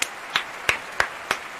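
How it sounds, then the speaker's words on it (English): Five sharp isolated hand claps spaced evenly about a third of a second apart, fairly close and moderately loud against a quiet room. "Round of applause for Thomas"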